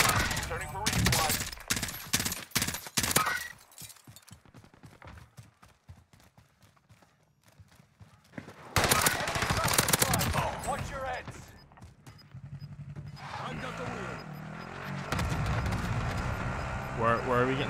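Rapid bursts of automatic gunfire from an M16 in the Warzone video game crackle loudly, drop away to a quiet stretch, then return in dense volleys, with players talking over the action.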